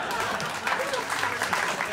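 A live podcast audience at a London theatre breaks into a brief, dense round of applause mixed with crowd noise, while a voice talks over it.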